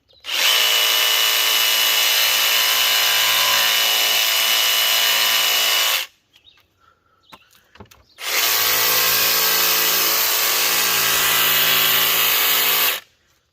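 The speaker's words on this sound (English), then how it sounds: "I'm gonna clean it up with the jigsaw here." A jigsaw cuts through wood in two long, loud, steady runs of about six and five seconds, separated by a short quiet pause with light handling noises.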